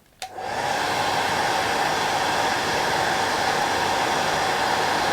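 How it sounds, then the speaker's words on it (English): A hair dryer switches on with a click and then blows in a loud, steady rushing hiss up close, drying and shaping the fibres of a long-hackle fly-fishing fly. "I'm just going to blow dry it, or hit it with the dryer"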